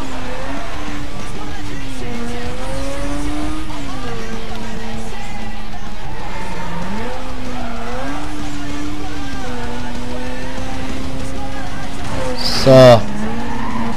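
In the Need for Speed Most Wanted video game, a car's engine drones and wavers as it brakes, with a brief sharp skid near the end and someone speaking a single short word over it.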